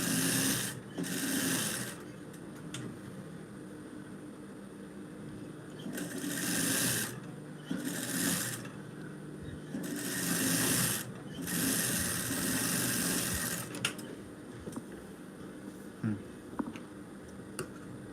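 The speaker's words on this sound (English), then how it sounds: "Sew a very straight line." A sewing machine runs a straight line in several bursts of rapid mechanical stitching, each lasting a second or two, with quiet pauses and small clicks between them.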